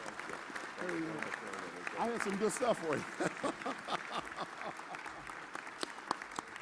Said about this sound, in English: Let's give the brother a big round of applause.